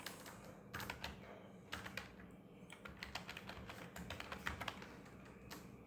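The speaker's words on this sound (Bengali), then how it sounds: "তো চলুন সার্চ বক্সে লিখি ওয়েব শেয়ার।" Typing on a computer keyboard into a website's search box, a quick run of close, crisp key clicks in uneven bursts with short pauses, over a steady low background hum.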